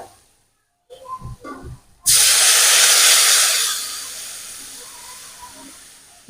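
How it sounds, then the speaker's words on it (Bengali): After a few soft clunks, water splashes into a hot pan for a thin parshe fish curry with green banana and potato, bursting into a loud hiss that slowly fades. "এবার দিয়ে দেব জল"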